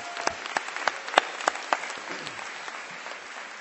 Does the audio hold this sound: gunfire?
no